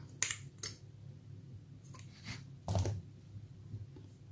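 Scissors snipping crochet yarn while finishing a handbag, a few sharp, close, quiet clicks spaced out over a few seconds in a hushed room.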